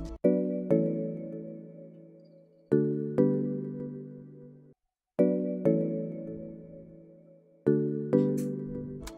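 Marimba-like mallet tones from the Chromaphone plugin, on consolidated tracks, play repeated bright chordal phrases, each struck attack decaying smoothly in a regular looping pattern at moderate volume with no voices.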